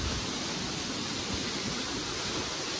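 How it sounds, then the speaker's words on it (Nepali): The Namaste waterfall near Dharan, heard as a constant, dense roar of falling water with no breaks or voices, steady and enveloping. "यो झर्ना झर्दाखेरि नमस्तेको आकार लिन्छ अरे कि"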